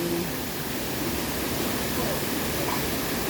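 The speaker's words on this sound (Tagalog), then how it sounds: "Diyan lumalabas yung tubig mula doon." Water flowing out from an underground cave in a natural outdoor setting, a steady, broad rushing hiss that continues evenly throughout without pause.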